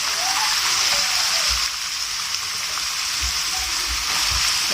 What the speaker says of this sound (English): So now I'm frying the beef in a little oil